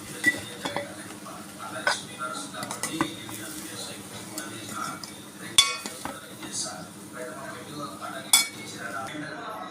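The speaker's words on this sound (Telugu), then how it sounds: "స్టవ్ ఆర్పేసేసి సర్వింగ్ బౌల్లోకి తీసుకుందామండి" Fried ponnaganti greens with chana dal being spooned from a pan into a serving bowl, with intermittent metallic clinks and scrapes of utensil against cookware over a low background hum, a few sharper knocks standing out.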